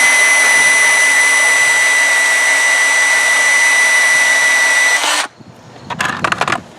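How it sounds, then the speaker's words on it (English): A power saw cuts steel rebar on an angle during a concrete repair, a loud steady high-pitched whine for about five seconds that cuts off abruptly, followed by a few faint clattering knocks. "So I'll just grab the saw and I'll cut it on an angle."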